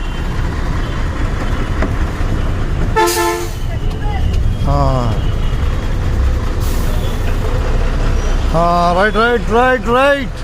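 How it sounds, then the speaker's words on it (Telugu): A bus departing for Tenali from a busy stadium bus stop, engine rumble and air brake hiss mixed with repeated vehicle horn toots, under people talking and calling out nearby. "తెనాలి బస్సు బయలుదేరుతుంది."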